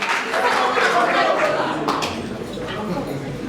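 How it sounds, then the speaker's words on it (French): Audience applause at an award ceremony for comedians, broad continuous clapping swelling then easing, with a loud crowd and a voice talking over it. "est-ce qu'on peut applaudir comme il faut?"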